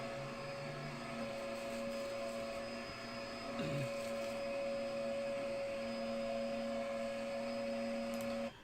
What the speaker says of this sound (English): I spoiled the first vacuum save by predicting the Hoover's issue